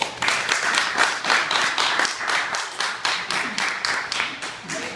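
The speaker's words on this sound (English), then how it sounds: "Please put your hands together for Tom Martinelli." Comedy club audience applauding a comedian's introduction: a close, lively run of individual hand claps in a quick, slightly uneven rhythm, swelling and dipping in waves with no speech over it.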